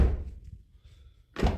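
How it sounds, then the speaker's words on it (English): A Toyota RAV4 car door is pushed shut after striker adjustment, a faint rustle and then a single solid, close thunk as it latches. "You just close the door"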